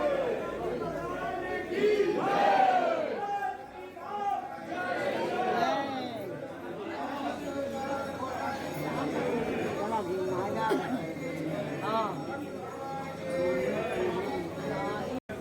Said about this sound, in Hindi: तो बहुत ही भीड़ है।